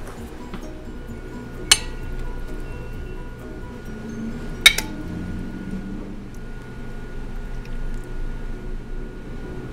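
A metal lid is set back onto a pot of simmering lemon pork rib sinigang, giving two sharp clinks against a low bubbling, kitchen background.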